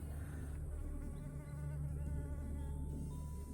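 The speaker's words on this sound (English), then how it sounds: "Guys, it's a blue-banded bee." A blue-banded bee buzzes close by in a backyard garden, a steady insect drone with no break over a constant low outdoor hum.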